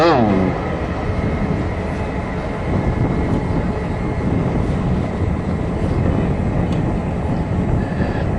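EMD diesel locomotives BN1 and BN2, built in 1954 and 1956, pull into a parade reviewing area with a steady, loud engine roar and rail rumble that holds throughout, with a horn-like tone at the start.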